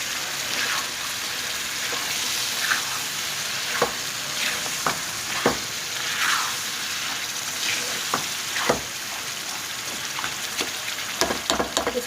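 Peas cook in a pan of mixed vegetables for a restaurant-style dish, giving a continuous sizzle broken by irregular spoon knocks and scrapes as they are stirred, up close with no talking.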